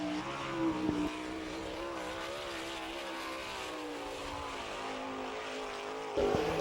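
A sprint car, number 5, running a qualifying lap at Attica, Ohio, on an All Star Circuit of Champions night: a sustained engine drone with wavering pitch, moderately distant, bracketed by short louder bursts at the start and end.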